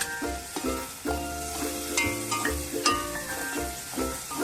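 Garlic and crushed ginger fry in a pan, a steady close sizzle broken by repeated stirring knocks and scrapes, with no voices.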